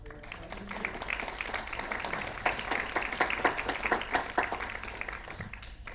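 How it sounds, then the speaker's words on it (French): An audience breaks into sustained applause at a diplomatic talk on global health, dense clapping from many hands that builds and holds steady, with a voice faintly audible beneath it. "que je vous invite toutes et tous à applaudir"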